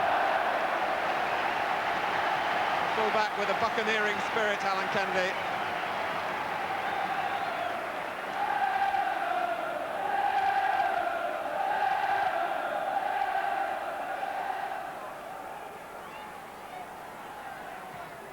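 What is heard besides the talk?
football crowd rising and cheering for Alan Kennedy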